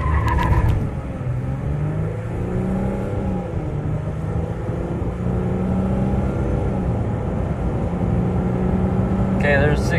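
A stock 2015 Ram EcoDiesel pickup accelerates hard from 0 to 60, its diesel engine droning loud and continuous from inside the cab, with pitch rising through the gears.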